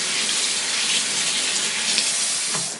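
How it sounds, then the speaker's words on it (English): Cold tap water gushes steadily and loudly into a strainer while raw chicken is rinsed under it, a continuous close hiss of running water with no talking. "Rinse them off in cold water."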